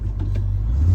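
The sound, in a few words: Ford Bronco V6 turbo engine driving off-road in low range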